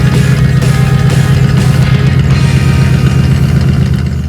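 A Triumph Stag Mk2 engine runs loudly and steadily with a deep, throbbing idle and a rough, burbling exhaust note throughout, no voices present.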